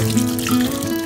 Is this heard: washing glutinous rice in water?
yes